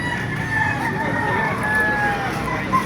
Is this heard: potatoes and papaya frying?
no